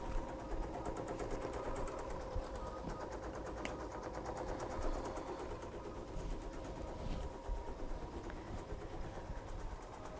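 An embroidery machine stitches with a steady, rapid mechanical chatter. The whirring drive runs continuously and evenly throughout, close by, with no speech.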